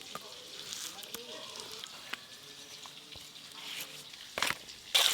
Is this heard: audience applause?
no